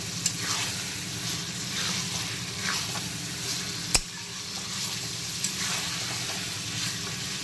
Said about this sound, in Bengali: আলুগুলোকে দু মিনিট মশলার সঙ্গে আবারও নাড়াচাড়া করে নেব একটুখানি মশলার সঙ্গে কষিয়ে নেব আলুগুলোকে